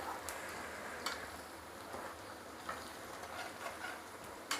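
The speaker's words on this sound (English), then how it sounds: "So again I'm frying it." Steady sizzling and crackling of onions frying in a pan, a constant hiss with occasional louder pops, no voices.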